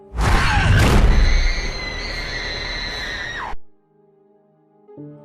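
A girl's loud, sustained high-pitched scream in a horror film, starting with a harsh burst and holding for about three seconds before cutting off abruptly, followed by quiet tonal music.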